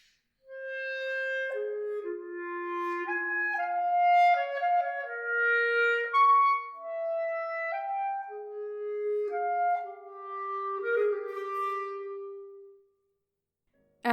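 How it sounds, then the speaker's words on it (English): A clarinet plays the lyrical primary theme of the Brahms clarinet sonata first movement, a clear, sustained melodic line of legato notes rising and falling over soft accompaniment, alone without talk. "The clarinet enters at measure 5 with the primary theme that sounds like this."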